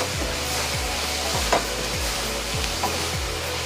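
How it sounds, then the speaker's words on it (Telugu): Onion pieces frying in a pan for chicken curry, a strong continuous sizzle with a steady rhythm of spatula strokes roughly every half second, close and loud. "ఈ ఉల్లిపాయ ముక్కలు వేగే వరకు"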